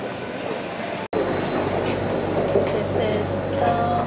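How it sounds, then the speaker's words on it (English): A monorail train runs the single stop to Universal Studios Singapore, a loud, steady rumble with a high, sustained wheel squeal, heard close from inside the car. "This is the monorail going one whole stop."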